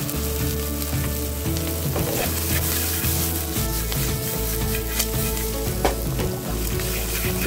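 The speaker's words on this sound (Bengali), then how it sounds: "তো আমার ফ্রাই করে রাখা কর্নগুলো ওর মধ্যে দিয়ে দেবো।" Pre-fried corn kernels tossed into a hot pan for salt-and-pepper crispy corn, frying with a dense, steady sizzle broken by scraping stirs and small pops, close up and with no voices.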